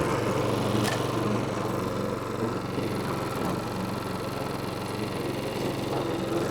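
A small petrol lawn scarifier engine runs at a steady, rough buzzing drone close by, continuous and fairly loud with no pauses.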